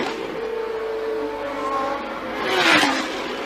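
Formula 1 cars run on track, a steady engine whine with pitch shifts and one car swelling louder as it passes near the end, no speech.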